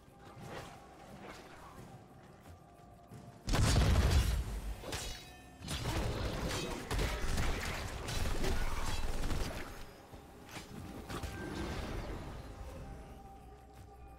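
Gravobomb 3000, the Mother of All Explosions, going off in an online match: a sudden loud blast with a deep low thud, followed by a rumbling, crashing cascade of further impacts that fade out over several seconds.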